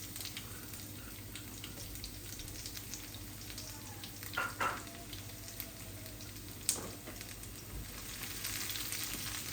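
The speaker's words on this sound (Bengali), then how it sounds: "এই আমি রসুনগুলা দিয়ে দিচ্ছি।" Garlic fries in hot oil for a lentil dal with vegetables: a steady close sizzle and crackle throughout, with a couple of brief utensil clicks partway through.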